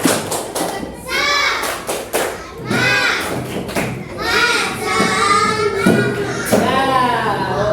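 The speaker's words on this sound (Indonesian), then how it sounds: "Tepuk tangan untuk semua" Third-grade schoolchildren in a classroom clap hands in loud rhythmic bursts mixed with thumps, while children's voices chant and call out over and between the claps.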